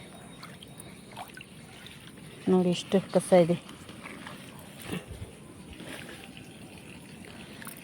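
Water runs steadily into a pipe at a littered site where standing water drains away, a continuous low wash under the scene, with a short burst of nearby talk partway through.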